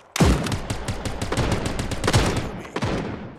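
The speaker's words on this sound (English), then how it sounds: "Wow, that shotgun though." Video game shotgun blasts crack out over rapid gunfire in a loud firefight, with sharp repeated shots close by and a heavy burst near the middle and another near the end.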